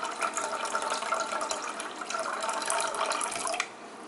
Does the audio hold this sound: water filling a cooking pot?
yes